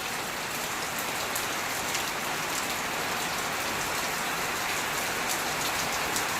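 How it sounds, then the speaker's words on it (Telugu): Steady rain pours down during a sun shower, a dense, even hiss of drops striking surfaces that stays constant and fairly close for the whole stretch, with no voices. "ఎండ కొడుతుంది, వాన పడుతుంది."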